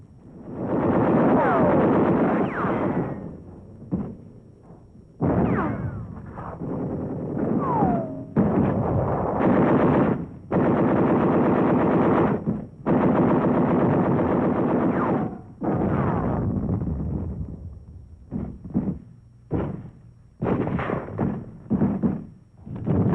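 Machine gun bursts and mortar fire in WWII battle footage from the fight for Bloody Gulch during the invasion of Angaur in the Pacific, loud and close, with repeated sharp bursts and heavy blasts broken by brief pauses.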